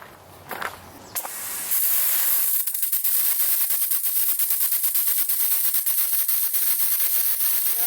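Road Shower 4 nozzle on a Toyota Tundra spraying a water jet outdoors, a loud, continuous hiss that starts abruptly after some brief handling noises and holds steady.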